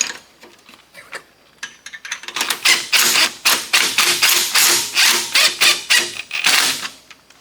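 Ratchet wrench on a wiggle extension turning a bolt during an engine piston installation: rapid metallic clicking, quiet at first, then a loud, dense run of ratchet clicks in close, rhythmic bursts.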